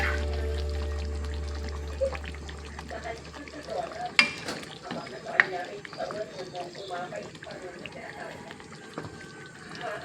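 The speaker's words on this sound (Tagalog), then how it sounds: "So, ilagay na natin yung kalamansi juice" Calamansi juice poured into a hot pan of beef steak, a soft liquid splash and sizzle that fades as the liquid settles, followed by scattered stirring clinks and light bubbling at close range.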